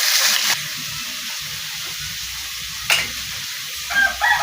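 Pork sizzles steadily in a hot pan for adobo, with a loud spoon clack and scraping as it is stirred, all close up and with no voices.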